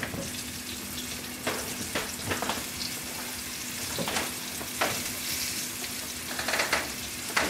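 Food sizzles steadily in an orange skillet, a constant hissing fry broken by scattered clinks and scrapes of stirring utensils and occasional running-water sounds, close and moderately loud with no talking.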